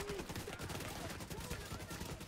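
Rapid AK rifle fire in The Division 2 comes as a quick rattling burst of closely spaced shots, fairly faint and distant, over a couple of seconds.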